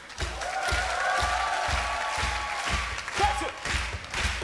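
An audience at a comedy show applauds with dense, rhythmic clapping that stays loud and steady, with voices mixed in.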